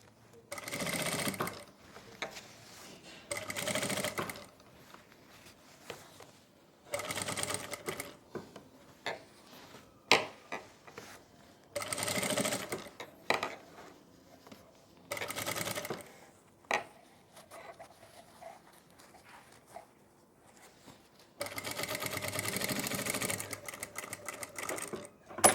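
Sewing machine running loose basting stitches along the neckline of a suit kurti, in repeated bursts of steady whirring stitching separated by short pauses and handling noises, alone without talk.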